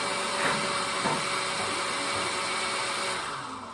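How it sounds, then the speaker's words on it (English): An old blender's motor whirs with a loud, rough mechanical drone that holds steady, then begins to wind down near the end. "The blender sounds like it's really old."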